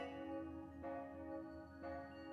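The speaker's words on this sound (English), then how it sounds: "Ring the bell." A bell ringing in the video game Trails to Azure, a sustained metallic tone with two soft strikes renewing the ring, faint and alone.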